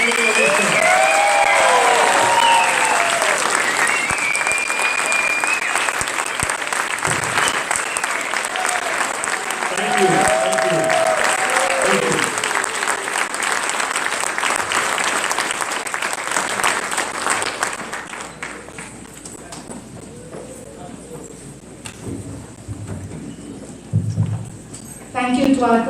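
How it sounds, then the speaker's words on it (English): Loud, sustained audience applause for a standing ovation at the Delaware Secretary of State swearing-in ceremony, dense clapping for about eighteen seconds with cheers and voices mixed in, then thinning out. "Sharoni Parijata Patibanda Sanchez, a big round of applause with a standing ovation."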